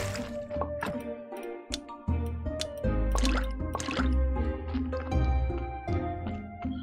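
Water being gathered in the farming game Graveyard Keeper, a run of soft drips and liquid splashes over a steady musical background, moderately loud with no talking.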